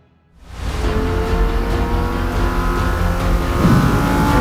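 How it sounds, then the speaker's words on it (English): A Lamborghini Huracan EVO rear-wheel-drive supercar revs hard after a brief silence, its engine note rising into a loud, sustained roar with climbing harmonic tones and a deeper surge near the end. "This is the brand new Lambo Huracan EVO rear-wheel drive."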